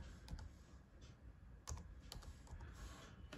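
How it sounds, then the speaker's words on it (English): Laptop keys tap in an irregular run of soft clicks on a Dell laptop, close and fairly quiet, with a couple of slightly louder presses standing out against a low background hum. "Now in the search box, type device manager."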